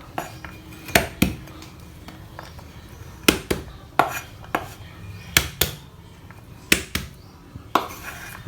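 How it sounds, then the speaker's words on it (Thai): Heavy thuds of herbs being pounded to crack them on a cutting board, about a dozen irregular blows with short pauses, close and sharp. "แล้วก็ทุบนะครับทุบให้พอแตก ทุบให้พอแตก"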